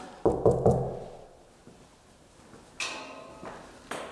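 A bag is moved in a quiet room of an old manor, giving three quick close knocks, then a pause and two sharper rustling bumps.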